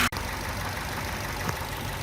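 Ford Fusion engine running just after its first start, a steady close idle with a low rumble and a faint irregular knock, heard alone with no talk.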